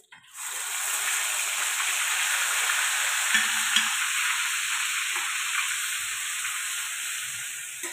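Onion, ginger, garlic and tomato paste sizzle steadily in a hot pan, a continuous close frying hiss with faint stirring scrapes and no talk.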